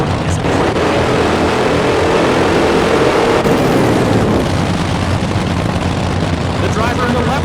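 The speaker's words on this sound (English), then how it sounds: "These engines hit decibel levels of 150 dB, which is as loud as a fighter jet." Drag racing engines roar in the NHRA Championship Drag Racing video game, a loud, steady, dense blast of noise that holds without letup for several seconds.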